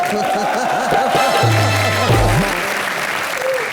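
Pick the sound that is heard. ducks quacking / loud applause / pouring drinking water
loud applause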